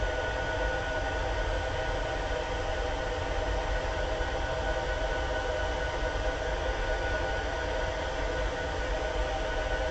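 A heat embossing tool blows a steady, loud whoosh of hot air while melting embossing powder, an even continuous rush that runs unbroken for the whole stretch with no voices.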